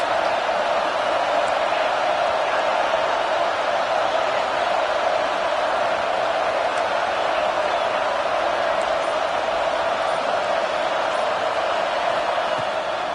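A college football stadium crowd roars in a dense, steady wall of noise at a third-down play.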